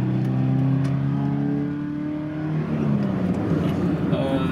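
A Toyota 86 engine revs up with a rising tone in the opening seconds and then holds a throaty, steady note close to the listener.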